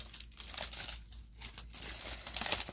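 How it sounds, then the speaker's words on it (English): Plastic bag crinkling and rustling nearby as items from an overstock haul are pulled out, a steady run of crackly crumpling with brief louder scrunches and no speech. "So let me get them out of this plastic bag before I knock my camera off."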